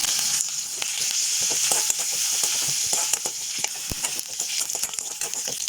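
Shallots, green chili, fenugreek, fennel seeds and curry leaves sizzle and crackle in hot oil, with scattered pops and occasional stirring scrapes close by.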